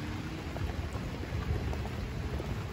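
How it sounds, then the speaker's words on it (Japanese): Heavy rain falls in Hiroshima, a dense, steady hiss of downpour that stays constant and close throughout. "こんな大雨の日に。 今日はよう降ったな。"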